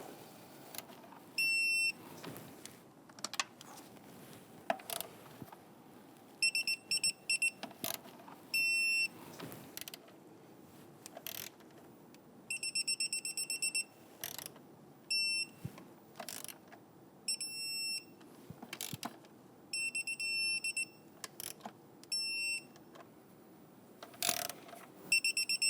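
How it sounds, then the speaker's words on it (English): Torque wrench clicking as bolts are tightened to 89 inch-pounds on a 3.6L V6 engine of a 2011–2021 Jeep Grand Cherokee, giving repeated short bursts of sharp metallic ratcheting with pauses between, close up, no talking. "Now I'm going to go ahead and torque down our bolts here."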